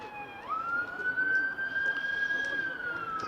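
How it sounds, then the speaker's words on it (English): An emergency vehicle siren near a cricket ground in Chelmsford during a County Championship match, a loud sustained wail that rises and holds steady, with faint talk underneath. "That is very loud, that siren, as Porter comes in again."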